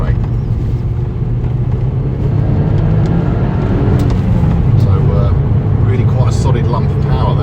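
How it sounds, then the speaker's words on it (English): A 2010 Mazda 3 MPS accelerating hard in second gear on a straight road, its engine a loud, steady in-cabin roar that builds throughout. "so in second gear it's going to accelerate."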